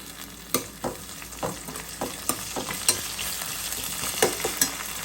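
Onions frying in a pan give a continuous close sizzle, with a series of sharp scraping stirs at a roughly even pace over it and no talking.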